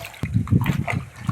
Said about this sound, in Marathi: स्वच्छ 2-3 पाण्याने धुवून घेतले होते